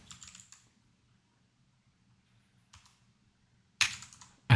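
Short bursts of computer keyboard typing, a quick cluster of keystrokes at the start, a faint tap midway and a sharper, louder flurry near the end, with quiet gaps between.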